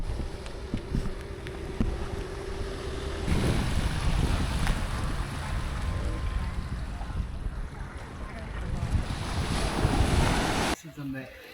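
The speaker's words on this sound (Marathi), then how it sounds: "समुद्रात आलो आपण." Sea waves wash on the shore at Malvan beach, a continuous rushing surf roar mixed with wind buffeting the microphone, swelling and easing, with a brief break near the end.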